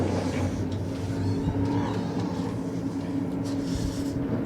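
Ground-pounding modified race cars at Hudson Speedway, a low, steady rumble of several engines at moderate distance, droning evenly with a few rises in pitch.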